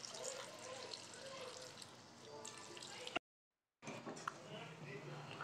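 Water poured into a pan of bitter gourd masala curry, a soft splashing trickle close by, with a short silent gap partway through.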